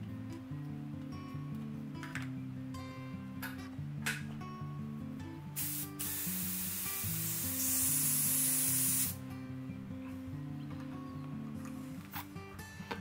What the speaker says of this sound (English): we'll just give that a bit of a mix in the airbrush